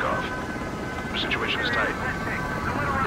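An F-16 fighter jet takes off in the video game Ace Combat 7, giving a loud, steady engine roar that fills the whole stretch, with faint radio-style chatter layered over it.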